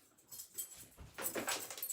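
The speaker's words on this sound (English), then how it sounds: "my dog is licking himself and really irritating" Soft, wet lapping and slurping of a dog licking, close and quiet, in irregular bursts.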